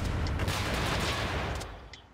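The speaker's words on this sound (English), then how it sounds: "Right into explosions." Explosions in the Freedom Planet video game roar as a dense, continuous blast of rumbling booms and crackling bursts that fades slightly toward the end.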